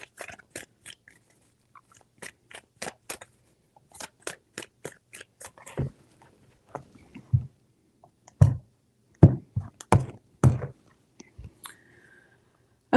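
Tarot cards are shuffled in a quiet room, giving sharp, dry clicks and riffles in uneven bursts, some louder slaps among lighter taps, with no talking.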